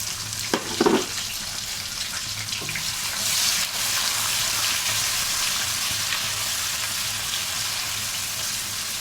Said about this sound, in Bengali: প্রথমে আমি পেঁয়াজ কুচি দিয়ে একটু নাড়াচাড়া করবো